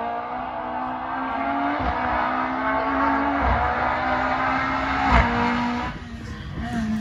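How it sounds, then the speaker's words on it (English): A Peugeot rally car races through a stage of the Guernsey Rally 2022, engine revving hard through repeated gear changes, with brief tire squeals as it passes close by, loud and continuous. "Taylor, come and listen to the Peugeot."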